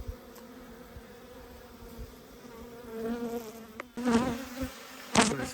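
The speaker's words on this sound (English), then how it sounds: "Plenty of bees." Honey bees at the purple hive give a steady close buzz that swells louder in the second half, with a few brief knocks and rustles of hive handling.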